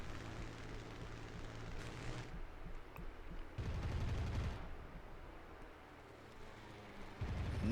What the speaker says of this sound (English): Nitro firing on Hanzo